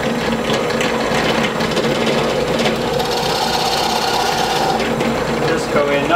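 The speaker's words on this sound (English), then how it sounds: "Just going to punch down into here, centering the Forstner bit." A Forstner bit drills into wood while seats and a yoke are fitted into a cedar strip canoe. It makes a loud, steady motor whir with a gritty cutting texture that runs unbroken through the whole stretch.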